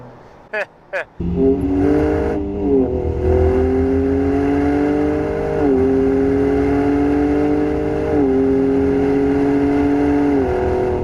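A 2019 Ford F-150 Raptor 4x4 SuperCrew engine roars loudly after a couple of brief blips, revving up as the truck downshifts two gears, with the pitch rising and stepping between gears across several seconds.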